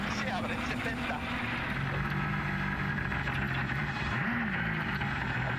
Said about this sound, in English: Lots of wheel spin.